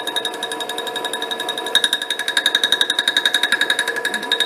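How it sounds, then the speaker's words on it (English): A metal lathe takes a highly interrupted cut on a workpiece held in a 4-jaw chuck, producing a loud, fast, rapidly repeating metallic chatter that pulses with each rotation and grows harsher partway through. "as you can hear, this is a highly interrupted cut"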